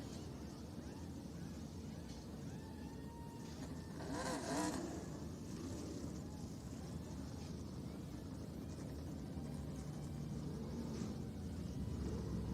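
Modified race cars roar around the Oswego, New York oval during the Toyota MOD Classic 150, a dense, continuous engine drone from the distant field with one car swelling louder as it passes, under a steady announcer voice.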